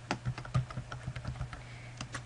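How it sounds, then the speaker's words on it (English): Text being typed on a computer keyboard: a quick, uneven run of close, light key clicks, with a faint steady hum underneath. "And then you just start typing in"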